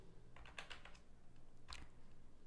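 Fingers type code on a computer keyboard, a quiet patter of keystrokes in short irregular bursts, close and alone.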